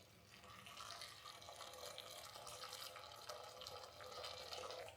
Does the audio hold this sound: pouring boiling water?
yes